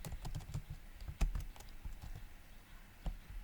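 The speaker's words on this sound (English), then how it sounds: "Let's type it." Typing on a computer keyboard while writing code, a close, quiet patter of irregular key clicks with a few sharper presses standing out.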